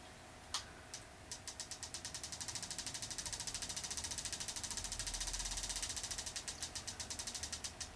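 A Penn 555 fishing reel spins freely, giving a fast, steady ratcheting click that starts with a few separate ticks and then runs into a dense, even clatter. It stays close and clear, slowing slightly near the end, with no voices.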